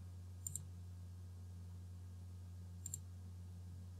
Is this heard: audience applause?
no